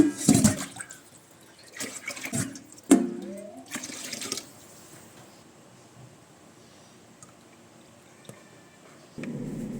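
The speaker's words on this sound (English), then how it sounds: "make sure to remove some excess water from the sink" Excess water is scooped and drained from a clogged kitchen sink, producing a few short splashing, gurgling bursts in the first seconds, then a quiet stretch and a final renewed wash of water.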